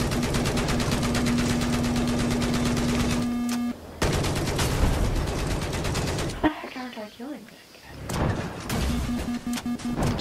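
Sustained gunfire in Battlefield 4 during a Rush match, loud and fast automatic shooting that stops briefly, resumes, and then gives way to a short stretch of other game noise before the shooting returns.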